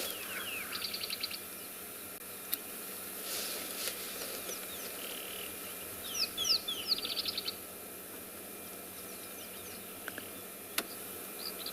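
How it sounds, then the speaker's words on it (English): Faint rapid clicks and snaps of chicks beak snapping come in a short cluster midway, with occasional chirps over a quiet outdoor background during a morning safari in South Africa. "You can hear them beak snapping in the background."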